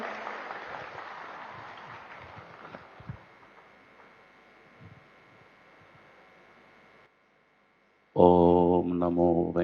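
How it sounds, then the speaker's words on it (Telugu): An audience at a spiritual gathering in Tirupati claps for several seconds, the applause fading into hiss, then a brief silence before loud amplified sound cuts in at the end. "హనుమంతరావు సార్ గట్టిగా చప్పట్లు కొడదాం."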